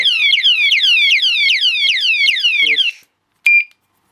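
A loud electronic alarm padlock screams in rapid repeating sweeping chirps, then cuts off, followed by one short beep.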